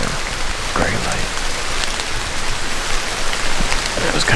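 Rain falling steadily outdoors on public hunting land in Wisconsin in October with an east wind, a constant hiss of drops with scattered closer patters, fairly loud and without talking.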